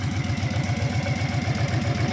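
A 2007 Honda VTX 1300 Custom with a liquid-cooled engine idles close up, a smooth, steady low throb with an even rhythm and no knocks, alone and without talk.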